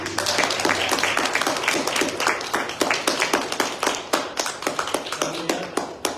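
A church congregation claps in brisk rhythmic unison during a Pentecost Sunday service, loud and sustained throughout with a lively, echoing room sound.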